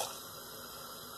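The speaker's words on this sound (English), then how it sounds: "I've washed the dal and I'm going to add the dal to the pan" Washed green dal tipped into a pan already holding six cups of water, giving a short soft splash and wash of liquid, close and fairly faint, with no talking.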